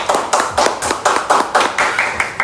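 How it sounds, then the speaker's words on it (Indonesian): Brisk, close hand clapping from a stage-show audience, about ten evenly spaced sharp claps in quick rhythm. "Tepuk tangan dulu."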